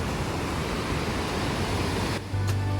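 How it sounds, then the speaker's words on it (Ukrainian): Steady, dense rushing roar of the Probiy waterfall, about 8 metres high, on a river near Yaremche, close and continuous with no talk over it. "з риночку ми виходимо до водопаду."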